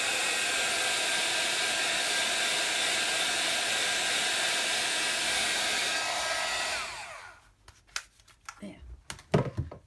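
A heat dryer used for crafting blows steadily at close range to dry a coloured background, a loud even whoosh that cuts off after about seven seconds, followed by a few soft handling knocks.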